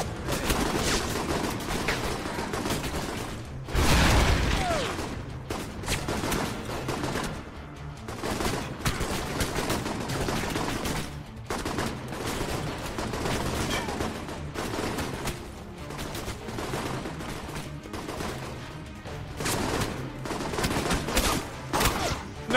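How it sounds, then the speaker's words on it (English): Gunfire rattles through a firefight in the video game Alpha Protocol, dense bursts and single shots running continuously, with one louder blast near the start and some voices underneath. "But his bodyguard shoot me too."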